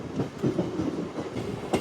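A MEMU passenger train running into Attili station, heard from inside as a loud, steady rumble with rhythmic clickety-clack of wheels over rail joints and a sharper knock near the end.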